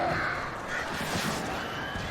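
Crows caw harshly in the video game Alan Wake, several calls overlapping above a constant loud background wash.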